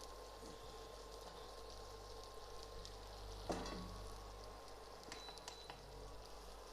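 Chopped onion and diamond-cut green chillies fry on a high flame, giving a steady, soft sizzle with a brief spoon clink partway through.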